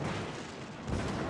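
Battleship Massachusetts fires its main gun shells in the naval game World of Warships, a brief, loud, booming rumble that swells again near the end.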